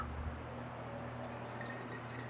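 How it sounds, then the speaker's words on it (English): Tap water drips and trickles from a pour spout while a bottle is filled for homemade mouthwash, faint close wet drops and a thin trickle in a quiet room. "Uh-oh, dripping."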